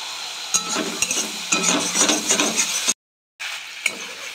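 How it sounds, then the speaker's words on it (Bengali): Spice paste fries in hot oil while a spoon stirs it, giving a close, steady sizzle broken by scraping strokes and a few knocks against the pan, with a brief silent gap near the end. "মশলায় তেল ছেড়ে দিয়েছে, সুন্দর ভাজা হয়ে গেছে।"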